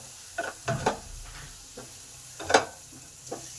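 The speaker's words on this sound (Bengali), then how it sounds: "এগুলো ততক্ষণই কষতে হবে যতক্ষণ এই মশলাগুলোর কাঁচা গন্ধ থাকছে" Spices are stirred in a pan with a little water and no oil, a soft sizzle under a few scattered scrapes and clinks of a spoon against the pan, fairly quiet and close.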